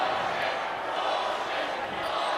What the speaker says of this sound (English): Crowd not happy